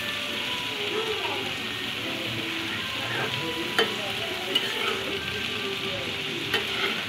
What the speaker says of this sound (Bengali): এটা ভালোভাবে নাড়তে হবে। আলুর সাথে চামড়াটা মিক্স হয়ে যাবে।